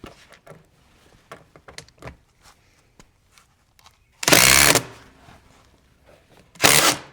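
A power tool tightens a bolt on a Mini Jeep chassis, sounding as two loud, short whirring bursts after scattered light clanks and knocks from the tool and parts nearby.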